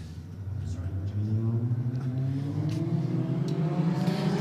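Two turbocharged Ford Falcons accelerate side by side in a roll race at night, engine notes climbing steadily in pitch as they pull hard, loud and sustained, with a voice talking over them.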